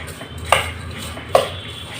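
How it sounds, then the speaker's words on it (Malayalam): Ingredients for kozhukatta, sweet Kerala rice dumplings with sesame, are mixed together in a bowl, giving two brief, separate clinks of a utensil against the dish over a quiet background. "ഇനി നമുക്ക് ഇതെല്ലാം കൂടി ഒന്ന് മിക്സ് ചെയ്യാം."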